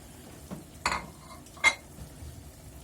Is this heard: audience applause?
no